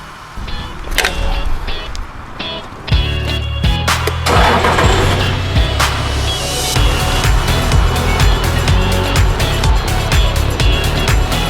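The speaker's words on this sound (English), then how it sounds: "your forklift and car can pass through Estopatch RSR after 2 hours" A car drives over a freshly set Estopatch RSR polymer-modified pavement patch, its engine note rising from idle into a steady mid-pitched drone with scattered clicks and knocks throughout.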